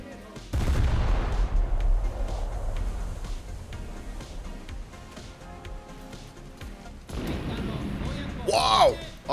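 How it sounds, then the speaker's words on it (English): Heavy booming naval gunfire, depth charges and explosions rumble through a War Thunder game soundscape, a sustained barrage with a sharp burst and rising whine near the end. "Man, I do love those explosions."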